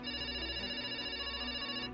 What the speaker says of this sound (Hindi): देख भाई तेरा किसी का फोन आ रहा है।